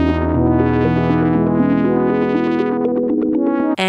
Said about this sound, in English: and it's a synth, sequencer, and arpeggiator that can sound like this.